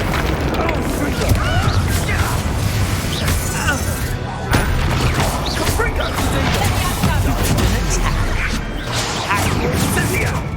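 Confringo fire spell explosions in the game Hogwarts Legacy, repeated booming blasts and crashing impacts in a dense, loud battle mix, with a voice shouting spell names over them.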